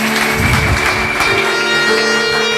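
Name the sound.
congregation applauding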